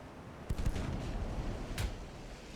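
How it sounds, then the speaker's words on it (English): Two distant booming gun reports from a 3-inch naval secondary battery in the warship game Ultimate Admiral: Dreadnoughts, the second coming about a second after the first over steady low rumble. "Taking fire from, I think, a 3-inch secondary."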